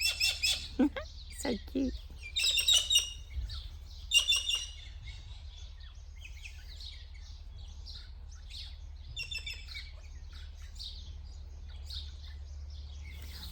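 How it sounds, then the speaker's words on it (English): Two white cockatoos perched on a branch, giving loud harsh squawks and calls in bursts, strongest early on, with a voice briefly talking nearby. "the birdies are loud today. Oh, they're cockatoos, 2 white cockatoos up on the branch."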